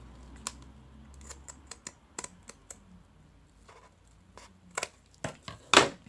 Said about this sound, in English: And then we're just going to trim off the excess.